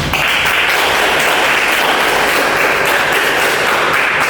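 Loud, dense audience applause for the winning team at a debate, sustained and steady throughout without letting up.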